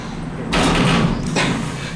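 A faulty sliding door on a KONE MonoSpace machine-room-less traction elevator gives a loud, broad rumbling clatter for about half a second, then a second, weaker scrape as it moves again, heard close up with no talking.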